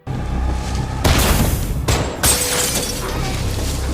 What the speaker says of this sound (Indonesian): Robert menembak ban mobil itu hingga akhirnya tembakan Dave meleset